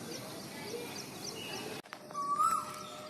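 After a soft hiss of morning ambience, an Asian koel starts calling again with a single clear, rising whistled note that stands out plainly over the background.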